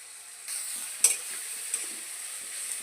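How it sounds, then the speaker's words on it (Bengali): Chopped onion and garlic sizzle in a pan as a spatula stirs them, a steady bright hiss with a couple of sharp scraping knocks, close up, no voices. "পেঁয়াজ আর রসুনটা খুব ভালোভাবে একটু ভাজা করে নিয়েছি।"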